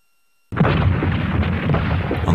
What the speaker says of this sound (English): the Germans launched a massive artillery bombardment of Warsaw